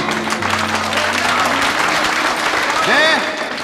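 Studio audience applause at a televised stage show, a dense steady wash of clapping that swells slightly toward the end, with a voice briefly rising over it.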